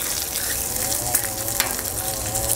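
Bacon strips sizzle steadily on a hot Blackstone flat-top griddle, a close, even crackling hiss that carries on without pause and with no talk.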